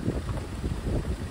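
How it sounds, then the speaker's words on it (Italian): Wind buffets a microphone outdoors at an illegal waste dump site, producing a continuous low rumbling roar with uneven gusty surges and no speech. "avviciniamoci perché c'è il vento,"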